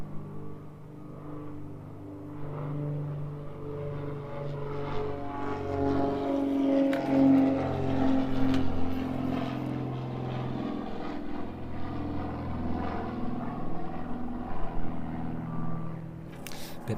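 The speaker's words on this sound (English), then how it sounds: "Bit more sound from the Vulcan Air" A Vulcan Air propeller aircraft takes off on a wet, windy evening at East Midlands Airport, giving a steady, rumbling engine drone with a low buzz that swells and holds at a distance, wind noise mixed in, no talking.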